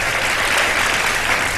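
A studio audience claps and cheers on a Pakistani iftar television game show, loud and dense for the whole short burst.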